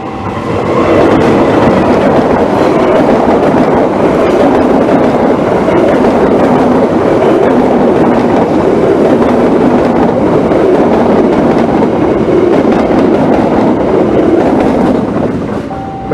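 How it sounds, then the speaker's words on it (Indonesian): Kahuripan passenger train rolling past a level crossing near Blitar station, a loud continuous rumble of wheels and cars close by, holding steady for the whole pass and easing off at the end. "yang barusan melintas kereta api Kahuripan dari stasiun Kiara Condong Bandung menuju stasiun akhir Blitar"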